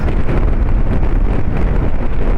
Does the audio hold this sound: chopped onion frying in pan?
no